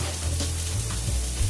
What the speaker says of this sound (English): add in some hot banana peppers, just regular jarred hot banana peppers, and I'm gonna saute these bad boys together